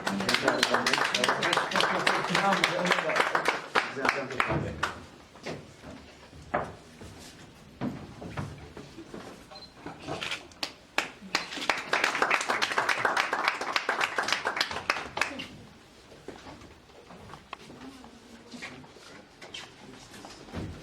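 Audience applause for the winners of a photography contest, with loud, dense clapping in two long bursts separated by quieter scattered claps, mixed with crowd murmur.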